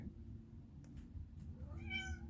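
A cat gives one rising, drawn-out meow near the end, close and clear, over a low steady background hum with no talking.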